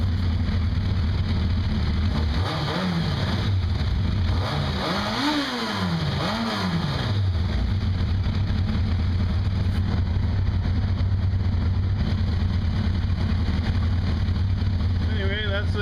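A 2002 Kawasaki Concours motorcycle engine idles close by, a steady, slightly sputtery rumble with a brief rev that rises and falls midway.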